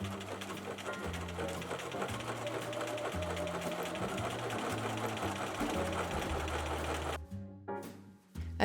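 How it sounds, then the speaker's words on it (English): A sewing machine with a buttonhole presser foot stitches buttonholes into modern fabric for hiking pants, giving a steady rapid mechanical chatter that runs for several seconds before stopping abruptly. "I sewed the buttonholes."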